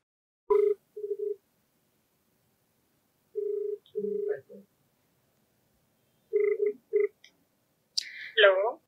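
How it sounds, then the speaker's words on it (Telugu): Telephone call being dialed: short bursts of steady keypad or ringback tones come in groups, with a pause between, and a brief electronic chirp at the end; no talk. "సో లేట్ చేయకుండా మరి కాల్ చేసేస్తారండి"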